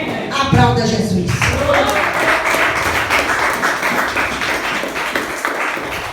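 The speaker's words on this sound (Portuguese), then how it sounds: "Aplauda Jesus." Church congregation applause during a Portuguese-language sermon, a loud, steady wash of clapping from many people that follows a brief spoken voice at the start.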